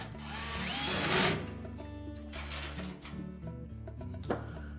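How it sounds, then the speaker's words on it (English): A power drill drives screws into the support brackets of a Whirlpool washer during a pump hose repair, with a loud whirring burst near the start followed by quieter, shorter bursts of driving. "Next we'll put the other two center screws in and secure it to the support brackets."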